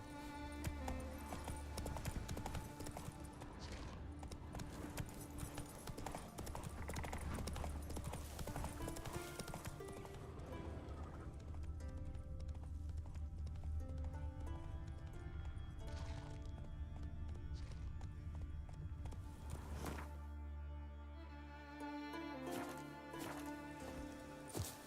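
Horse hooves galloping at a steady run in The Witcher 3 video game, a continuous loud clip-clop rhythm over game music, with a brief change near the end.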